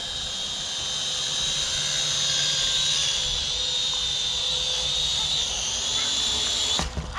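A Snaptain A15H toy drone hovers nearby with a high, steady whining buzz that wavers slightly in pitch, and people talk faintly beneath it.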